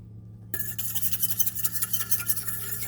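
A spoon stirs a sauce with a couple drops of hot sauce in it, starting after a brief silence and carrying on as a run of scraping, clinking strokes close by.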